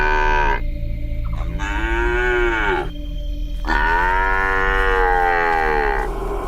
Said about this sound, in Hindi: पीछे से एक बछड़े की आवाज सुनाई देती है।